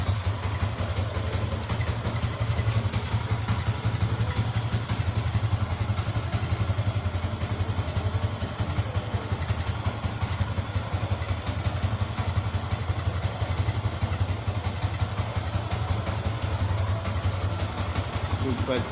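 A stock Yamaha Sniper motorcycle engine idles steadily and fairly close for the whole stretch, a constant low rumble with light mechanical clatter. Faint voices may sit underneath it.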